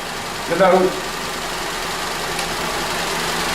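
A Vauxhall Corsa Ecotec petrol engine idles smoothly and steadily after an oxygen sensor fault is fixed, a constant even hum close by, with a brief voice-like sound near the start.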